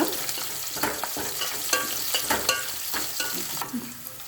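Raw peanuts frying in a pan until reddish, a constant close sizzle broken by repeated scraping and clattering stirs at an uneven rhythm.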